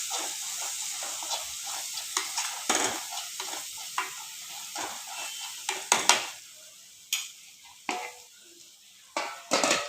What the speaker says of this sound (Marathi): आता मस्त असे मी त्याला परतून घेते